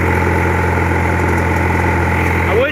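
A small MTD petrol engine runs on choke in cold weather, holding a steady, loud, rough idle with a constant low drone throughout and no talking.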